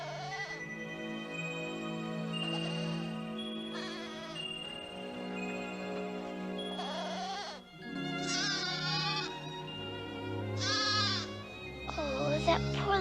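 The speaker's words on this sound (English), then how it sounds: "Oh, that poor little goat." A little goat in an animated Alice in Wonderland scene bleats in repeated wavering cries, loud and close over continuous orchestral music.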